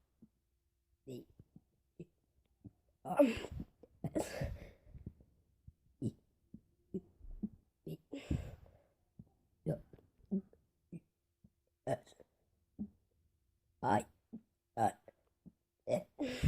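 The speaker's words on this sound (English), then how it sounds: "I just burped the ABC" A person burps the letters of the alphabet one after another: a long run of short, guttural belches with uneven pauses, close and fairly loud, with a few louder, drawn-out bursts.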